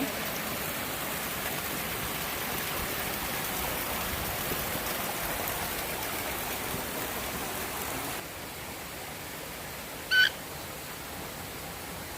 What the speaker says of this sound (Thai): น้ำตกที่ไหลลงมา